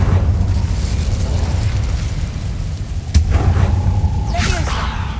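An Incendio fire spell cast in Hogwarts Legacy: a loud sustained whooshing roar of flame with a sharp crack partway through, followed by crackling bursts and a rising swish near the end.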